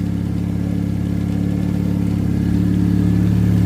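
A car engine idles smoothly and quietly with a healthy alternator and good belt, a steady close mid-low hum with no whine, rising slightly in pitch toward the end.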